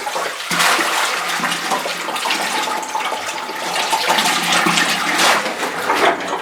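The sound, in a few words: 5-gallon bucket submerged in sump water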